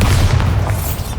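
A Bombarda spell blast in the Hogwarts Legacy video game gives a heavy, close boom with a thick low rumble that fades off quickly.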